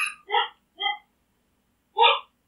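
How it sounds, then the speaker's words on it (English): A dog named in the scene barks in short, sharp yaps: two quick barks close together, a pause, then a third, near and fairly loud with no talk over them. "Is Mookie barking?"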